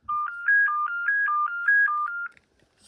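A BT2200 cordless phone sounds its paging tone: a loud, close electronic warble alternating two pitches in about ten quick regular beeps, then stopping.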